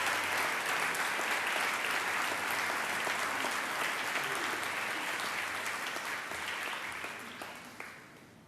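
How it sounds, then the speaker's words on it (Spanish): Sustained, dense applause from a church congregation at a Sunday service, loud and steady for several seconds before gradually tapering off. "Den un aplauso al Señor"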